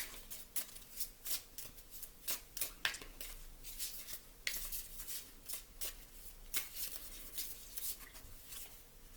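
Oracle cards are shuffled at close range for a tarot reading, giving a steady run of soft papery slaps and riffles in a repeating rhythm, fairly quiet, with no talking.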